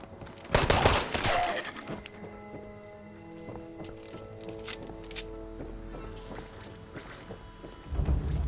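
Gunfire in Fallout 76, a burst of sharp close shots near the start followed by scattered separate cracks and clicks over a quieter hum, with another loud burst at the end.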